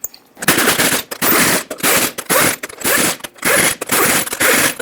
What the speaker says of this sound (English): Put back all 8 lug nuts. Snug them up in a cross pattern to seat that wheel.